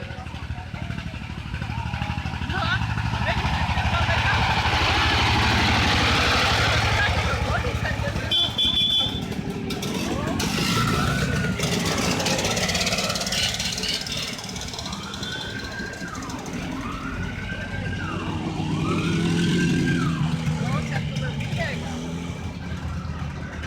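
An old tractor-like vehicle rumbling past at a vintage vehicle nostalgia day in Haapsalu, its engine growing louder then fading among crowd noise, with repeated rising-falling whine tones later and people talking nearby.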